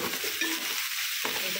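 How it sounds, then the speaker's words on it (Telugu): Chopped tomatoes hit hot oil with fried ginger-garlic paste for an Andhra-style chicken curry, making a close, crackling sizzle with brief stirring scrapes in a short burst. "ఇలా వేగి కొంచెం ఆయిల్ ఇలా పైకి తేలుతున్నప్పుడు మనం కట్ చేసి పెట్టుకుని టమాటాలు వేసేద్దాం"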